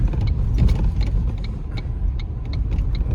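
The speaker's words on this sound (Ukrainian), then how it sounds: "Ось по таких дорогах доводиться соватися моїм стареньким фордовом." An old Ford car drives over a rough road, a close low rumble of engine and tyres broken by repeated clunks, rattles and bumps from the suspension and body, continuous with no talking.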